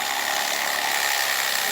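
A worn-out electric knife with failing gears whines steadily as it cuts through upholstery during seat recovering, a continuous buzzing motor drone with no pauses.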